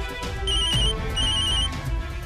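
A telephone ringing tone during a call: two short bursts of a high electronic ring, fairly clear over a low background hum, with no talking.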